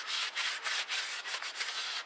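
A rag soaked in brake cleaner is wiped over a metal mating surface on a vehicle's third member (rear differential). The rubbing comes as a quick series of soft, rhythmic, close strokes with brief gaps between them, and no voice is heard.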